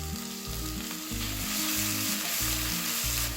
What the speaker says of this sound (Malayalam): ഇതൊക്കെ ഒന്ന് എണ്ണയിൽ വഴറ്റിയെടുക്കാം